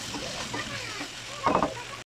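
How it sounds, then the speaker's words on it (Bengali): Okra (bhindi) sizzles softly in a pan with green chilli, turmeric and salt, a brief frying crackle that swells near the end before cutting off. "ভেন্ডিগুলো ভাজি করে নিচ্ছি।"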